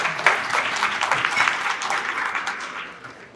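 An audience at a small business awards reception applauds warmly, with brisk, even clapping at moderate volume that gradually tapers off.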